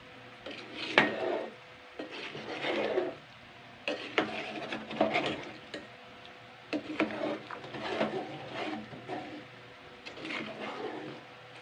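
A spoon stirs chickpeas for ghugni in a metal pan, giving irregular scraping bursts and clinks that come in uneven pulses, close up and moderately quiet, with no talking.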